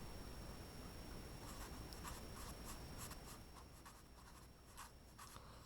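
Pen writing on paper, soft scratchy strokes in short bursts heard close over a low steady background hiss, with no voices.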